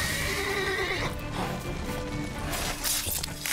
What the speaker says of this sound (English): I'm about to burn your horse.